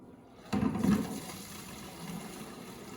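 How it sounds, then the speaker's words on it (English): Old, dirty gasoline pours out of a tank in a short, quiet splash that starts abruptly and then trickles off into a faint, low gurgle. "Go ahead and pour the gas out of this tank"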